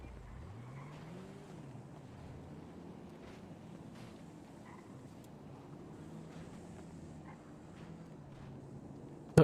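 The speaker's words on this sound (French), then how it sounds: "Ah, il y a une moto qui revient." A motorcycle approaches as a low engine drone that rises and falls in pitch, fairly distant and steady beneath wind noise, with no talk.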